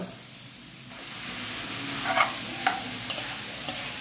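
Meat for bopis dropped into a hot pan, a hissing sizzle swelling after a quiet start, with a few sharp clinks and scrapes of a utensil, close up.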